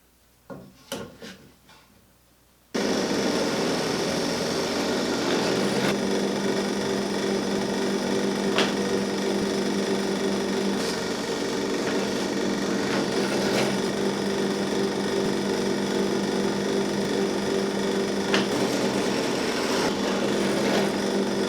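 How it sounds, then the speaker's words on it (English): A drill bores through a clamped pair of wooden corner cradles, running as a steady, loud whine for most of the time after a few brief knocks and clicks at the start. "I clamped them together in pairs while drilling"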